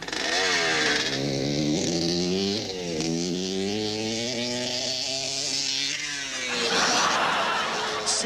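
A motorbike engine buzzes and whines continuously, its pitch climbing and dipping as it accelerates and passes, fairly close and steady throughout.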